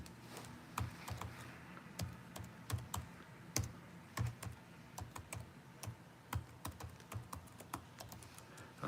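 Fast, uneven typing on a computer keyboard as a web address is entered, a steady run of close, crisp key clicks with short pauses and no voices.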